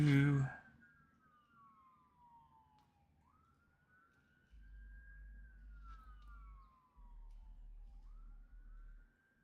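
Emergency sirens from fire trucks, ambulances and police wail near a firehouse, a rising and falling tone repeating over a low rumble after a loud opening burst, heard at a distance.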